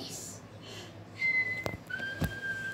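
Two short whistled tones, steady and fairly clear, follow some quiet murmuring, with a faint gap between them.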